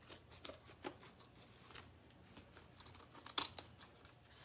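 Scissors snipping through canvas for a bunny sign craft, a series of faint, close, irregular cuts and crinkles in a quiet room.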